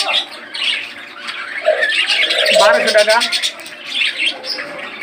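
Pairs of caged budgerigars at a bird market chirp and squawk in bursts, with a trill of chatter near the middle, while someone talks over them close by.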